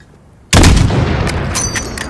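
A single loud sniper rifle shot rings out in the video game Call of Duty: Modern Warfare. It follows near silence with a sharp blast, then a long rumbling tail and scattered faint crackles.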